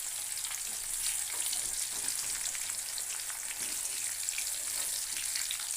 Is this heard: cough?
no